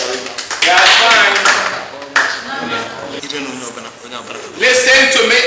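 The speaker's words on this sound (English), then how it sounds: "Clap for him." A class of students gives a round of applause for a classmate who spelled a word, bursts of quick clapping that stop and start again, with a voice speaking between them.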